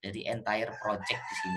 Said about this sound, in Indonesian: ini mohon maaf ya suara ayam berkokok ya